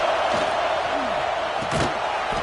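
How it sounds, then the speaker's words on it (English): Dense, steady roar of a college football stadium crowd at fever pitch on a third-down play in the red zone, with the Golden Gophers on the field; a broad wash of cheering runs throughout with brief louder swells and a faint voice underneath. "3rd down play in the red zone, and this crowd is at fever pitch."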